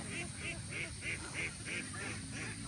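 Ducks raised free-range on lowland rice paddies call in a steady run of repeated honking quacks, fairly close and continuous over constant background noise.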